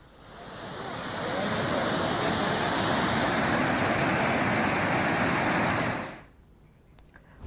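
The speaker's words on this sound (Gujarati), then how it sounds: "જે પાણી છે ઉપરથી ટોપિંગ થઈને જઈ રહ્યું છે" Flood water from a river in Chhota Udepur, swollen after heavy rain, rushes over a diversion bridge in a loud, continuous roar that swells in and drops away sharply near the end.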